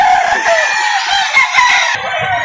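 A rooster at a poultry market in Lipa City, Batangas, around nine months old, crows loudly and close for over two seconds, with faint clucking and market bustle beneath the drawn-out call.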